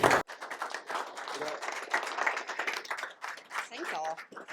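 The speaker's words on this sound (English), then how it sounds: "I was clapping at that last sentence" An audience at an open source data infrastructure meetup in Austin, Texas applauds in a dense, sustained burst of clapping, with voices talking over it toward the end.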